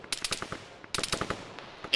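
Two quick bursts of rapid gunfire crack out in a military video game, each a cluster of sharp shots at moderate loudness, separated by a short pause, with faint trailing shots.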